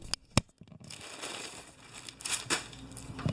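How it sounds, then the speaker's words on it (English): Plastic packaging and bubble wrap being unwrapped during a DVD and toy unboxing: sharp crinkles and crackles early, then a steady rustle of handled wrap with a few louder crunches near the end, close and fairly quiet. "everything's in bubble wrap"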